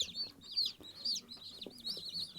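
Day-old broiler and Master Grey chicks peeping in quick, high, repeated chirps, close but soft, with faint clucking and light movement underneath.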